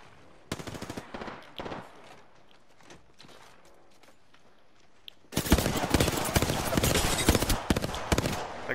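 Gunfire in a video game: a few scattered sharp shots at first, then a sustained loud burst of rapid automatic fire that keeps hammering to the end.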